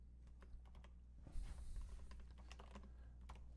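Quiet typing on a new computer keyboard, a string of light irregular key clicks close to the microphone, with a brief soft rustle partway through and a steady low hum underneath.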